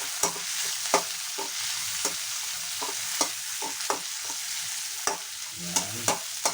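Food browning in a frying pan gives a steady, bright sizzle throughout, broken by repeated sharp utensil scrapes and clacks from stirring at uneven intervals of roughly half a second to a second, close and moderately loud, with no talking.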